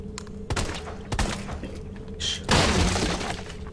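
In Resident Evil 3 Remake, a wall is busted open with sharp shattering crashes: two heavy hits early on, then a loud sustained burst of breaking debris that carries to the end.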